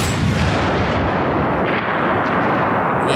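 A sniper gunfire sound effect as a loud, dense, continuous roar of heavy shots and booms filling the whole short stretch with no talking.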